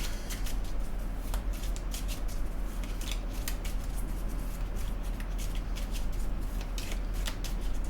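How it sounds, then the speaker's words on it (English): Hanson-Roberts tarot cards are shuffled continuously up close, a steady papery riffling and sliding with quick crisp flicks repeating throughout. "as I shuffle the cards"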